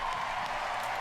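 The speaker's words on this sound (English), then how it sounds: "Another round of applause, please" Dense, continuous audience applause from a crowd at a Bethesda E3 2019 showcase, a steady wash of many hands clapping at once, somewhat distant.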